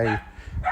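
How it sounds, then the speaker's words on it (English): A neighbour's dog barks in the distance, a couple of short muffled woofs heard from beside a red 2024 Kia Niro EV3 with its boot open, mixed with faint background noise. "That's not our dog barking."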